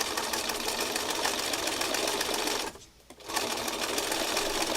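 A sewing machine stitching scrap fabric runs in a loud, steady buzzing whir, stops for about half a second, then starts up again at the same pace.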